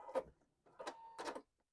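A sewing machine reverse-stitches across quilt binding on a hexagon quilt, heard as three short, faint mechanical runs separated by brief pauses, close and quiet.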